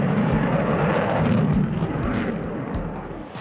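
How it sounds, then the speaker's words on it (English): A jet aircraft's engine roars on afterburner as a broad, loud, rushing blast. The noise swells, then slowly fades, and sharp crackling pops cut through it. "For extra speed, this jet is dumping fuel from the jet engine, creating a huge flame called an afterburner."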